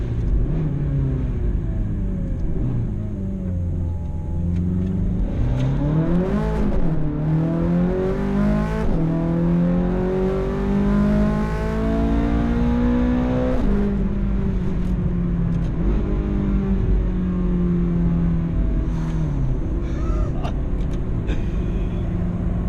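Ferrari 430 Scuderia V8 heard from inside while driving, a loud continuous engine roar rising and falling through repeated acceleration sweeps and gear changes, with no talking.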